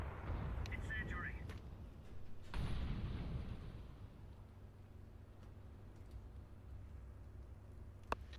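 Incendiary grenade thrown in a Counter-Strike 2 match, with a low burst and rumbling fire up front that fades into a long quieter roar, punctuated by a few sharp pops, while players talk over it.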